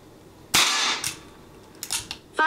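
A Ruger SP101 .22 revolver fired outdoors, with a sharp loud shot followed by a ringing tail and several fainter clicks and cracks afterward.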